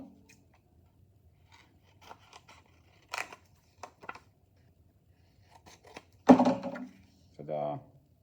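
Scissors snip through paper while cutting out shapes for a shape-portrait craft, a few quick, close cuts scattered among quiet pauses, with a couple of louder crisp snips near the end.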